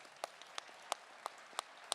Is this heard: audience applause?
yes